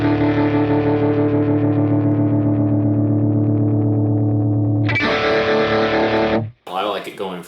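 An electric guitar chord sustains through a UAFX Astra modulation pedal, its tremolo pulsing rapidly then slowing, before a burst of distorted strumming and a short stretch of speech at the end.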